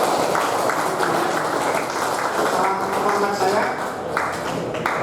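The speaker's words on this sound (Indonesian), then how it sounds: "Saya minta tepuk tangan untuk teman-teman saya" An audience at a painting exhibition at Alaya during UMBUFEST 2023 claps in a steady, dense patter that lasts throughout, with scattered sharper claps and a murmur of voices underneath.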